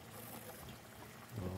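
Soy sauce poured into a cooking pan, a faint, brief liquid trickle over low background hum, with a slightly louder splash near the end.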